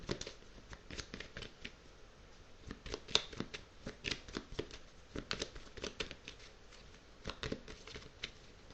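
Tarot cards being shuffled by hand, a soft, quick run of flicking and riffling clicks close up, fairly quiet and continuous with no voices.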